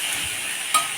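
Grated ginger frying and being stirred in a hot pan, a brief close sizzle with a quick scrape of the spoon near the end.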